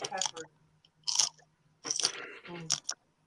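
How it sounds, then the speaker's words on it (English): Crunchy bites into a fresh pepper: several sharp, close crunching snaps with chewing between them, mixed with people talking nearby. "That's pretty fresh. It sounds crunchy as fuck."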